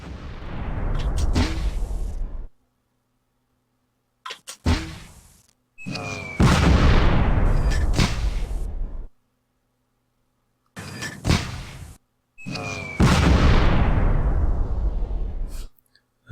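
Off-board artillery barrage in the wargame Tigers on the Hunt: loud booming blasts and rumbling explosions come in several heavy bursts, each followed by a few seconds of silence.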